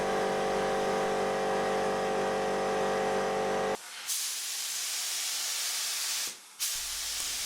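A spray gun lays 2K acrylic top coat onto car body panels during a Daihatsu Charade restoration, a steady close hiss cutting off briefly twice as the trigger is released and squeezed again.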